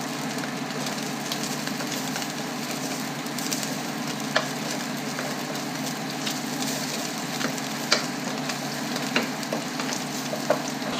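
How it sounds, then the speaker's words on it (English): Garlic sizzles in hot olive oil in a pan, a continuous close crackling fry with occasional sharper pops and faint stirring scrapes, no voices. "Put in the garlic."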